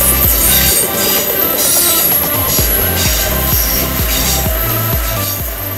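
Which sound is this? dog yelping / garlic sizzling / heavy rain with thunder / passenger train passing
passenger train passing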